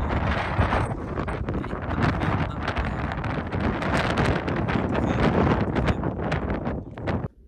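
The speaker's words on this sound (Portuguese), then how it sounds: "tá muito vento" Strong outdoor wind buffets a microphone in loud, continuous broadband rumble and roar for several seconds, dropping away abruptly at the end.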